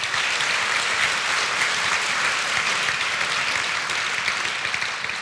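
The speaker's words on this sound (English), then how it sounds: "Big round of applause, please." Steady, dense audience applause fills a conference hall at a UX design event, continuous and loud from start to finish with no talk over it.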